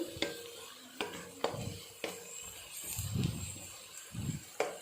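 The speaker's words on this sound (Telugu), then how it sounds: "ఆనియన్స్ వేగిపోయినాయండి. ఇంకొంచెం ఒక 2 మినిట్స్ వేపుకుంటే రెడ్గా వచ్చేస్తాయి." Onions sizzling in a pan as they fry, with sharp clicks of a utensil stirring and scraping every second or so over a quiet crackle.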